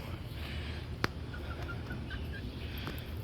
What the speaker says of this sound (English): here's the baby chickens, which really aren't babies anymore